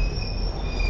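A train in The Ghost Train horror game pulls in with sustained high-pitched wheel squeal over a loud, rumbling rail roar, steady and close throughout.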